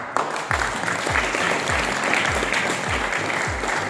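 Audience applause at a Raipur business plan programme, a steady moderate wash of clapping with a few heavier low thumps recurring at a regular beat underneath.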